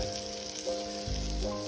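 Food sizzles and crackles steadily in a cast iron pan over an outdoor rocket stove, a soft, continuous hiss of frying with faint low rumbles underneath and no voices.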